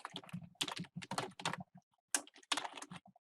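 Typing an address on a computer keyboard, heard as close, irregular bursts of clicky keystrokes separated by short pauses, with no talking.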